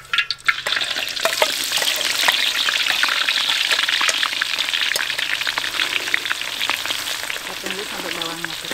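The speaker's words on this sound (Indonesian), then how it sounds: "sekarang kita mau buat bawang goreng dulu. Ini udah kita iris-iris tadi. Sama udah kita kasih garam." Sliced, salted shallots frying in hot oil for fried shallots for soto Padang, a steady, dense, close sizzle and crackle that runs the whole time with a few stirring scrapes and no talk.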